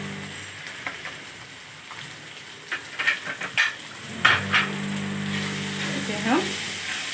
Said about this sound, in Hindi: हम अभी स्लो आंच पे ही भूनना है इसे हमें